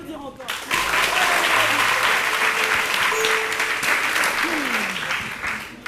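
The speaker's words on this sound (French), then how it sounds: "On peut l'applaudir encore." A game show audience applauds a contestant with dense, sustained clapping that starts abruptly and fades slightly toward the end, while a voice talks over it.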